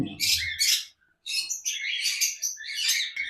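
A pair of lutino ringneck parakeets call in shrill, repeated squawks and chirps, close and loud in two bursts separated by a brief pause.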